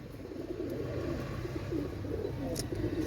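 Soft, low cooing from a Teddy 128 master pair of pigeons, a steady murmur close by for a few seconds with a faint high chirp near the end.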